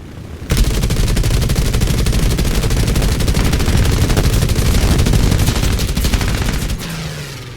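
Rapid machine-gun fire from a PBY Catalina in a flight combat game, a loud continuous burst of closely spaced shots lasting several seconds before cutting off abruptly.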